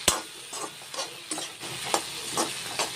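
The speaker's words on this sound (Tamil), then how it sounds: "அந்த கொத்தவரைக்காய் புளிக்குழம்பு கொஞ்சம் வதங்கட்டும்." Cluster beans sautéing in a pan for a tamarind curry, a steady soft sizzle broken by regular scraping stirs about every half second, close and clear with no voices.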